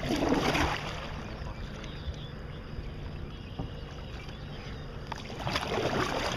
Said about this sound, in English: I like how we paddle straight for it.